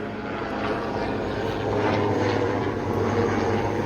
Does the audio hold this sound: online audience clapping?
no